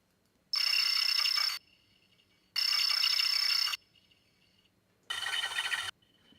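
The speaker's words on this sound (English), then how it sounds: "So that's the sound of her tablet, all the Imperial tablets, when they're scanning and stuff like that," A sci-fi Imperial tablet from the series Andor gives three separate electronic scanning tones, each about a second long, bright and buzzy with a steady high pitch, against near silence.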